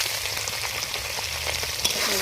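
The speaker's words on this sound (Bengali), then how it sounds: "এবার এর মধ্যে চিংড়ি মাছটা দিয়ে দেবো, দিয়ে ভালো করে ভেজে নেব" Live Harina prawns fry in hot oil in a kadai, giving a loud, continuous, close-up sizzle and crackle that stays dense and even throughout.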